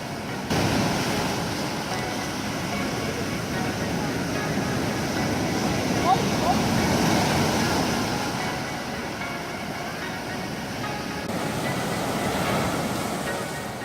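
Sea waves break on the shore at Jeongdongjin beach, a crowded sunrise spot, making a continuous broad roar mixed with wind buffeting the microphone.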